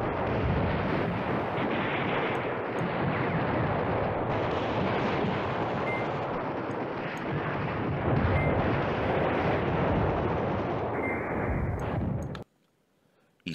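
Continuous heavy rumble of bombing and artillery fire in the Command Ops 2 wargame at Manhay Crossroads, a dense roaring barrage that runs unbroken for about twelve seconds before cutting off abruptly to near silence.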